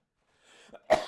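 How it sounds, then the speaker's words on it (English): A single sharp cough bursts out after a quiet breath, brief and close. "I'm coughing."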